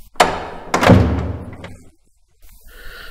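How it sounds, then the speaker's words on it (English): A study door is shut with two heavy wooden thuds in quick succession, the second a deeper slam that rings out briefly, followed by a faint scrape as it is barred. "He shut and barred the door of the study."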